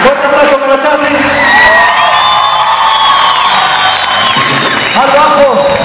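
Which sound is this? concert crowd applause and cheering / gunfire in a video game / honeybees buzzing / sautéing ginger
concert crowd applause and cheering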